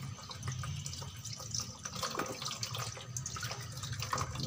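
Okra being washed by hand under a running kitchen tap, a steady close stream of splashing water with soft rubbing and dripping, no talk.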